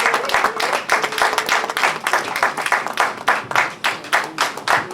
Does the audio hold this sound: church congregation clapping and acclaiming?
yes